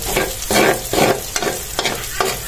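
Corned beef fried in a pan with onion and garlic, a close, loud sizzle broken into bursts as it is stirred about every half second.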